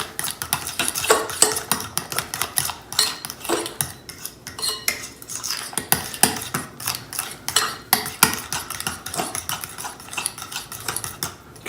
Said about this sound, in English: get that all mixed together